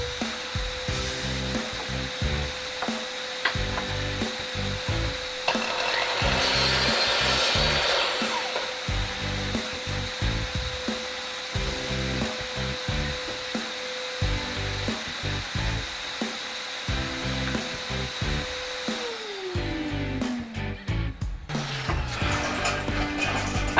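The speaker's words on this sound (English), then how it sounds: "We've got this drop saw over here. We'll go through, start cutting everything out, cut everything to size." A drop saw runs through premium timber lengths being cut to size for a reptile enclosure, its motor whining steadily with repeated loud cutting passes and a winding-down hum near the end, close up with no talking.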